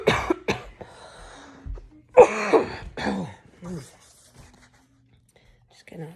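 A narrator coughs several times in sharp separate bursts and clears the throat, close and dry in a quiet room, with brief murmured speech between.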